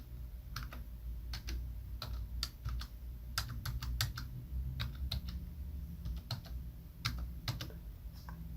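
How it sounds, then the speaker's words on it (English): Someone types a library card number on a computer keyboard, a close run of crisp, irregular key clicks over faint background hum, with no talking. "type in your full library card number"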